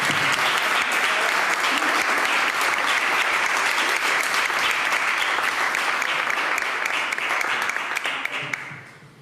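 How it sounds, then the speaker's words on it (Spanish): A crowd at a gubernatorial candidates' debate in Cauca applauds the five candidates, a loud, sustained wash of clapping that stays strong for several seconds before tapering off. "Yo los invito a todos ustedes a que le demos un aplauso a los 5 candidatos."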